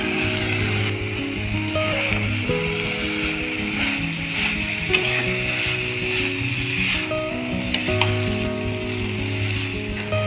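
Banana flower (mocha) ghonto sautés in a pan, giving a steady, close sizzle with occasional scrapes and clinks of a utensil, and faint background tones throughout.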